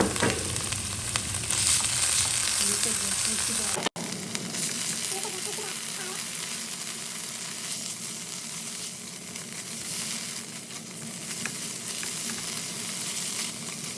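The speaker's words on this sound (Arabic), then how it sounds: "الحين بضيف التونة، أحب أحمصها شوي قبل ما نضيفها." Tuna toasts in a hot pan, a steady close sizzle and crackle, louder at first, then settling into an even fry with occasional stirring scrapes and no voices.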